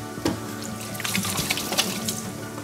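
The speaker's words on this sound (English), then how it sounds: "I'm gonna wash my hands real quick." Tap water runs steadily into a sink while hands wash under the stream, close and continuous with small splashes and shifts in the flow, no voices.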